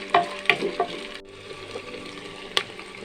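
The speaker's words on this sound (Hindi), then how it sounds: "अब इसमें हम डालेंगे 2 टेबलस्पून अदरक लहसुन का पेस्ट है। ये जल्दी फ्राई हो जाता है" Ginger garlic paste, two tablespoons, sizzles in hot oil with onions in a cooking pot, a soft steady frying hiss broken by a few sharp spatula clinks and stirring scrapes close by.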